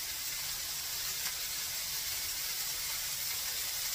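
Oil sizzles steadily in a hot pan with a continuous, even hiss while chicken parm burgers fry, close and fairly quiet throughout.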